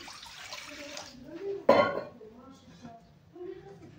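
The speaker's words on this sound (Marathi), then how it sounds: "आपल्याला एक तांब्याभर पाणी टाकून घ्यायचं आहे याच्यामध्ये" A potful of water is poured into a kadai, giving a short, loud splash midway while a voice talks steadily throughout.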